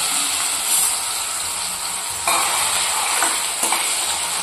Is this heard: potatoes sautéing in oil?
yes